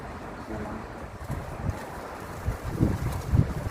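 Blustery wind rumbling against the microphone, with gusts swelling louder toward the end.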